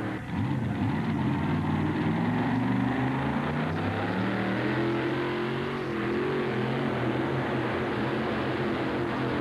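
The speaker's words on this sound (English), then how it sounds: "This is a Keith Black Chrysler Hemi engine, a top-fuel drag racing engine, but he's running on alcohol here" A Keith Black Chrysler Hemi top-fuel drag racing engine running on alcohol in a 1935 Diamond T pulling truck at a truck pull. A loud, continuous roaring drone with throbbing harmonics shifts slightly in pitch as the load changes, with no talk over it.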